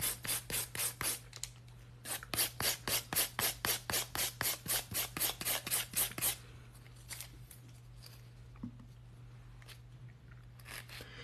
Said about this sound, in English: I do like it, but I prefer hand filing first